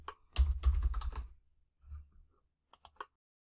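Bursts of quick clicking keystrokes on a computer keyboard, a dense flurry of typing followed by a pause and a few isolated taps, heard alone.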